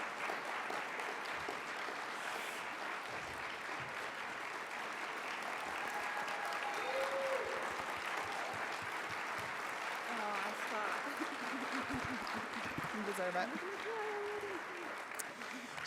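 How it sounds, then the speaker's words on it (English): Audience at a cholangiocarcinoma patient day applauding a 12-year survivor, a steady, dense wash of clapping that runs throughout, with faint voices and cheering mixed beneath it. "Feel free to stand and cheer."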